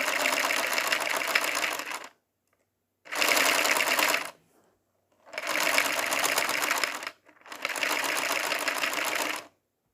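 A Lego vacuum engine runs in four fast mechanical buzzing bursts of about one to two seconds each, separated by short silences, close and fairly loud with a rapid rattling chug and no talk.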